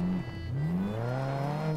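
Motorbike engine in the survival video game SCUM, a droning motor whose pitch dips and then rises steadily as it revs, heard fairly close and alone for under two seconds.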